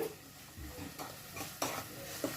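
Ginger paste frying in a pan, a faint sizzle under scraping and clinking stirs, a few sharper knocks of the utensil against the pan, close and quiet.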